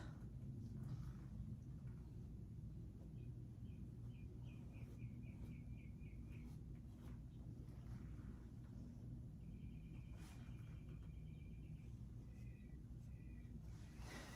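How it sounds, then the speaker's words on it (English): Birds sing outside an open window, faint repeated chirps and a couple of short trilled phrases heard over a steady low rumble of background noise. "I am hearing the birds"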